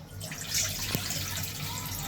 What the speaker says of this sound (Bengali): তো প্রথমে কড়াইয়ে আমি পানি দিয়ে দিচ্ছি।